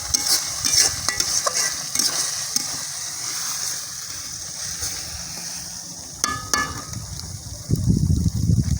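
Food being sautéed and stirred in a pan for a Bengali village dish of khakrul, with steady sizzling and repeated scraping strokes close by, ending in a louder burst of frying.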